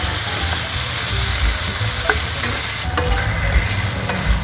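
Squash sautéing in a pan with shrimp paste, a loud close sizzle with constant stirring and occasional utensil knocks, no voices.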